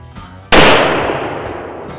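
A single rifle shot is fired at a whitetail deer on a Minnesota hunt. The crack is sharp, very loud and close, and its echo trails off slowly over the next second and a half. Quiet outdoor ambience comes before it, with no talk.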